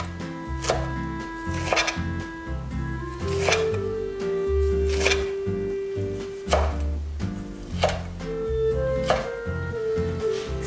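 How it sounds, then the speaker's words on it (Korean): Knife thinly slicing boiled beef shank on a cutting board, a series of firm, irregular thunks with soft background music throughout. "길게 반으로 나눠주시고 얇게 썰어주세요"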